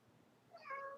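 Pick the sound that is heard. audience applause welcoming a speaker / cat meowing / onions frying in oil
cat meowing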